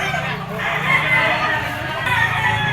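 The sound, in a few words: rooster crowing at broodstag auction market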